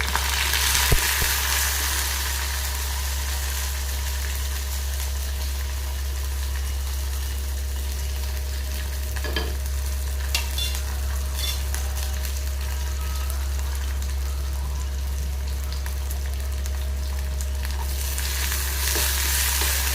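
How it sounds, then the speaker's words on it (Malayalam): Ginger and garlic fry in hot oil for lemon pickle, giving a steady sizzle with occasional scraping stirs over a low constant hum. "നല്ലതായിട്ട് ഇളക്കി ഒന്ന് മൂക്കട്ടെ"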